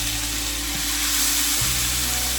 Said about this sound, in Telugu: ఫస్ట్ ఇలా హోల్ స్పైసెస్ అన్ని వేసుకున్నాను ఆయిల్లో.